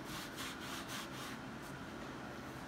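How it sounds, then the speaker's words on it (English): Balled-up paper rubbed over a painted poster, a soft, faint scratchy rustle in repeated strokes, close and steady with no talk. "if you pick a different spot and ball it up and then rub"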